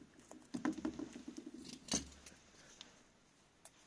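Small snips and rustling as a short piece of red tape is cut with scissors, several quick faint cuts and crinkles close by, then quiet.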